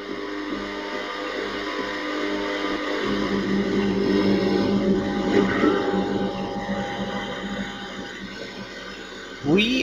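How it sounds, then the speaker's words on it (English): Loud, constant rushing water flowing through sewers in the horror video game Afraid of Monsters, a steady broadband wash that lasts the whole stretch, with a person speaking over it. "And the water is kind of loud."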